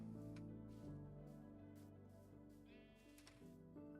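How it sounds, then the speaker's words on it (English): Sheep bleat in the video game Minecraft, several short wavering cries layered over steady background game music, faint and with no talking. "Some sheep."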